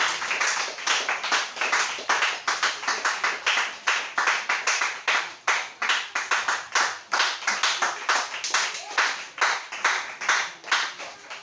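A church congregation claps steadily in praise of the Lord, a dense, even rhythm of many hands sustained close and loud throughout with no voices over it.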